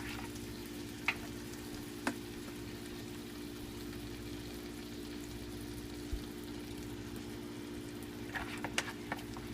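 Caramel-coated meat frying in vegetable oil over very low heat sends up a steady, faint sizzle, broken by a few soft pops and clicks.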